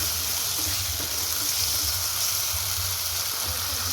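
Masala for doi katla fish curry sizzles in a pan as water goes in, giving a steady close hiss with a low bubbling rumble underneath, even in level throughout.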